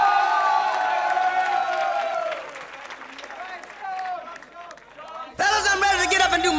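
A television studio audience applauds and cheers for the Funky Ground Crew hip hop dancers, the clapping and whoops mixed with a loud voice and tonal sounds before a burst of music cuts in near the end.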